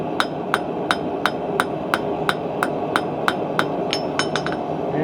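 Metal candle holder legs take a run of regular ringing hammer strikes, the pace quickening into a tight cluster near the end, all over a steady workshop hum and with no one speaking.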